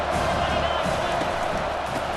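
Stadium crowd cheering in the college football game EA Sports College Football 25, a dense, steady roar of many voices filling the whole stretch at fairly even loudness, with no clear commentary on top.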